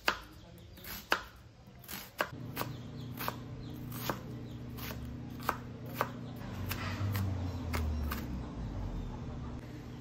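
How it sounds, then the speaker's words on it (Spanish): Knife chopping onion on a cutting board, a dozen or so sharp, distinct chops at a steady unhurried pace, close up, over a low background hum, with no talking. "Ahora vamos a picar un poco de cebolla para las carnitas"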